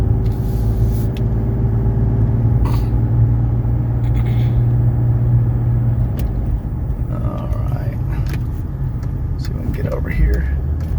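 Inside a 1995 Mercedes E300 diesel driving uphill, a low, steady engine and road rumble fills the cabin, with a drop in tone near the end as it shifts, while someone talks over it.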